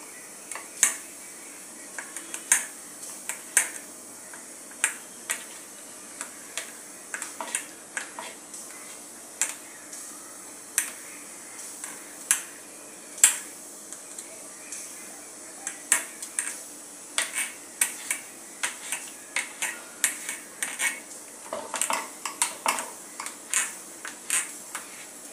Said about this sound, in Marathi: आपण हे वांग्याला बारीक बारीक चिरून घेऊया